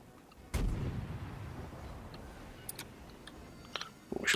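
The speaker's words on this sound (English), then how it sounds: "now that he's shooting at us" Enemy warship guns fire in the naval combat game World of Warships: a single dull, distant boom, then faint scattered clicks and ticks over a quiet background.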